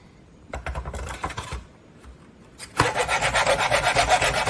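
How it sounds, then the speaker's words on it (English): A wide wooden popsicle stick is cut near its end with a few short rasping strokes, a brief pause, then a faster run of rough sawing rubs, close and fairly quiet. "with the wider popsicle stick, measure 1/2 inch from the end, approximately, and cut the end off"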